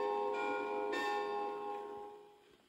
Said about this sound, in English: each time you hear the bell ringing,